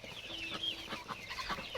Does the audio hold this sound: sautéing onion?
no